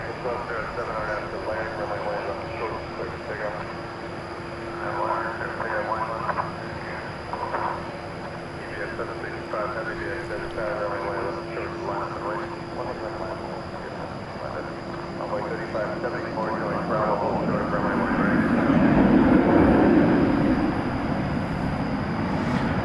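An American Airlines Airbus A321 departs DFW Airport at night, its steady jet roar building over about twenty seconds and swelling loudest near the end, with a constant tonal hum and voices talking underneath.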